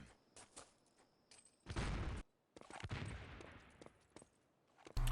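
Gunfire and explosive blasts in the Enemy Territory online shooter, with a Panzerfaust in play, coming as loud bursts and booms broken by short quiet gaps.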